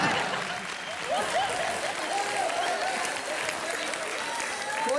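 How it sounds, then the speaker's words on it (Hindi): A comedy show's studio audience breaks into loud, sustained applause, a dense wash of clapping that holds steady throughout, with faint voices beneath it. "जोरदार तालियां"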